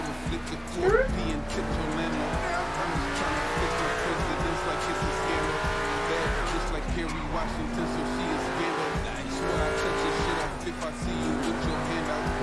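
An Audi R8 V10 coupé drifts sideways, its engine roaring and revving in waves while the tires squeal loudly and continuously, with someone talking excitedly over it.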